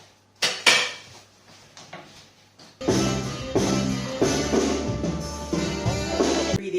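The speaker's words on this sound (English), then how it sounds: "Ingredients folded in." Butter and other ingredients for a cornmeal pudding are folded together in a bowl: close, irregular clinks and scrapes of a utensil against the dish, sparse at first and then busier and continuous, with no talk.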